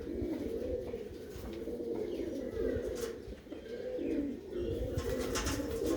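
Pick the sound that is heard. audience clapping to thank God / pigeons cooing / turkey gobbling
pigeons cooing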